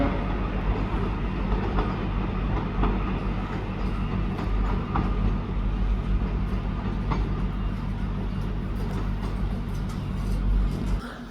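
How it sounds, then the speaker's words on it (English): A passenger train pulls into a platform at Bolton station, its steady low rumble and rail clatter holding loud and close throughout with no voices over it. "The next train to arrive at platform 1 is the 11:49 Bolton service to Rochdale."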